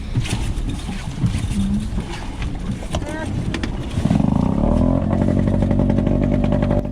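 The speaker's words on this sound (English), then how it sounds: "You can hear the noise it makes as it comes out of the water. That's called cavitating." A loud boat outboard engine roars, then revs up into a rising, harsh whine as it comes out of the water in a swell and cavitates, racing and churning; voices are heard under the noise.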